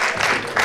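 A short swell of audience applause at a media awards ceremony, a brief, dense clatter of many hands that surges, dips, then rises again.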